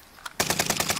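Automatic gunfire in Call of Duty Warzone, set in the Pacific map, bursts in abruptly after a short lull as a rapid, loud string of close shots.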